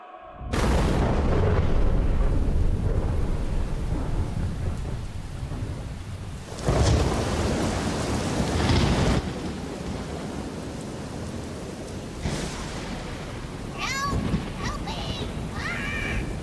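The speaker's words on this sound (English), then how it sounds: "This storm is crazy!" A thunderstorm with heavy rain pouring steadily throughout, broken by loud rolling thunder claps and booms, while a voice speaks briefly over the storm.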